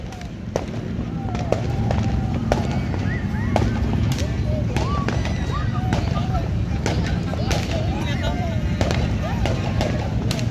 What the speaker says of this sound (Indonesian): Ciwi, seneng enggak lihat kembang api?